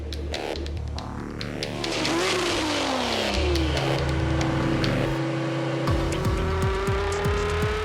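A luxury car engine revs hard and accelerates loudly during street racing in Dubai, its pitch climbing steeply, with a second engine roaring nearby and brief tire noise.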